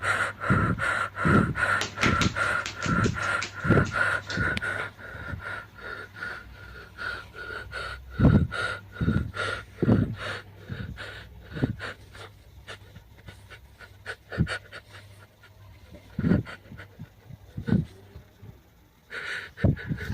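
Heavy, ragged breathing and panting comes in repeated gasps and snorts over about twenty seconds, close and fairly loud, with a steady low hum underneath.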